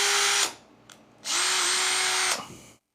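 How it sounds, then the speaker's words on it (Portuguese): A power drill whines loud and close as it bores a pilot hole into PVC pipe: a short burst that cuts off, a brief pause with small clicks, then a longer steady run before winding down to silence. "Vamos fazer um pré-furo bem ali."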